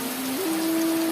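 Outdoor rain in the crater area of Suoh, West Lampung, gives a continuous, dense hiss of falling drops, with a faint thin tone running steadily underneath.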